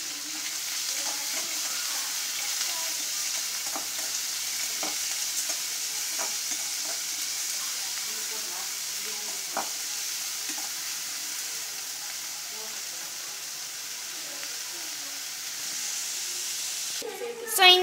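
Onion fries in a pan with a soft, continuous sizzle and hiss, broken by scattered scrapes and taps of stirring, while someone speaks over the cooking.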